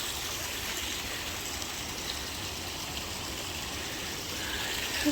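Steady rushing of creek water flowing over rocks in winter, a continuous broadband wash, fairly close and even throughout.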